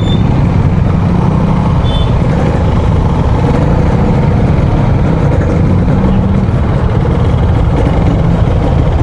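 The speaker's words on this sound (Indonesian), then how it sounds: "manasin mesin" A motorbike engine idling while being warmed up in stop-and-go traffic on a busy road used as a market, a loud continuous low rumble with surrounding traffic noise throughout.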